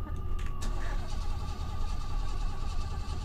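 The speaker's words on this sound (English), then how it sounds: "The car wouldn't start." A car engine cranks and fails to start in the horror video game Fears to Fathom, a steady rumbling churn lasting several seconds with a few sharp clicks at the start.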